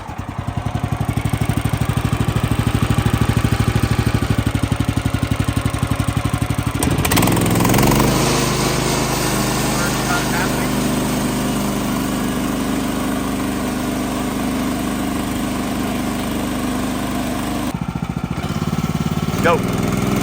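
Gasoline engine on a Woodland Mills HM130MAX sawmill, sawing yellow pine, runs loud and close, chugging steadily before revving up to a higher, fuller throttle roar that holds to the end.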